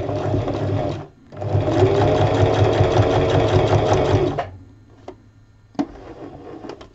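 A sewing machine doing free-motion quilting runs in a steady loud burst for about three seconds, pauses briefly, then stops, followed by quieter handling clicks and taps.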